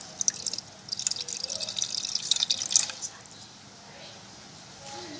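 Nutrient solution for a hydroponic setup pours into a container, a wet splashing trickle that runs steadily for about three seconds, then fades to a quiet hiss with faint drips.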